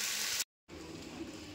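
Spices sizzle and hiss briefly in a little hot oil, a soft close frying sound broken by a short moment of silence.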